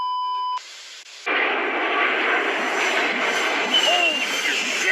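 An airplane heard in a played video: a few steady electronic tones give way to a loud, continuous broadband engine roar that holds steady with slight swells to the end.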